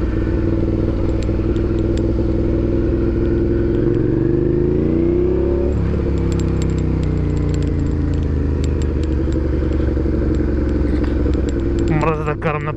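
A motorcycle rides over cobblestones into an old town, its engine droning steadily with a shifting pitch while the bike rattles and jangles continuously, loud and close, ending with a brief voice.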